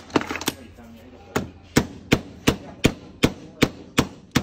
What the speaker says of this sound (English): we take a small screwdriver and we go down next to the pin